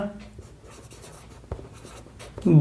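Chalk or a marker scratches across a classroom board in short, uneven strokes at close range, while a teacher's voice carries faintly underneath.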